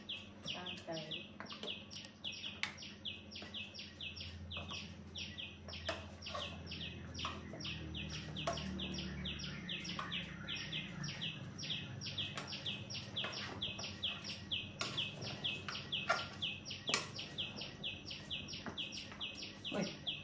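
Small birds chirp and tweet in quick repeated calls throughout, fairly close and steady, over a low background hum at a house where guests have arrived.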